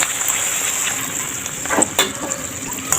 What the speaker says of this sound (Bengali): বাকি সবগুলো আমি এভাবে ভেজে নেবো একটু লাল লাল হবে লুচিগুলো